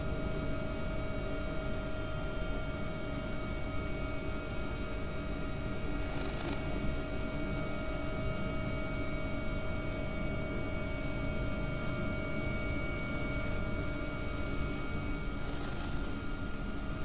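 An AW139 helicopter in the X-Plane 11 flight simulator cruising on a coastguard rescue mission, with a steady, continuous engine and rotor drone that holds at a constant level throughout, without talk.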